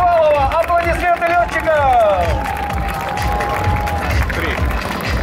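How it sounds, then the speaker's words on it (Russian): Air show spectators applauding Yak-54 aerobatic pilots, a steady patter of clapping mixed with crowd murmur and sliding voices over a low rumble, loud and continuous throughout. "Аплодисменты"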